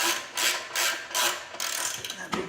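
A ratchet works an exhaust bolt loose on a Honda Grom motorcycle during an SF Zoom exhaust swap: several bursts of rapid, close clicking separated by short pauses, with a few lighter clicks at the end.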